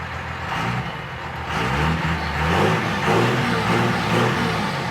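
A Cummins 12-valve turbo diesel in a 1991 Chevy K5 Blazer runs loud and close with a deep, steady throb, and a low drone swells slightly partway through.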